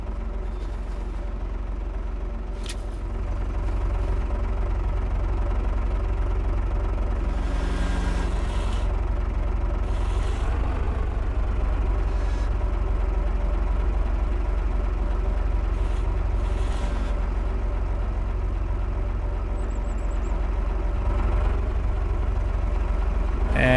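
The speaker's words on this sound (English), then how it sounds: "I really love the sound of this tractor. It's got a nice engine on it" A farm tractor's engine runs steadily close by, a deep continuous rumble that holds an even level throughout with faint clanks and knocks over it, no voices.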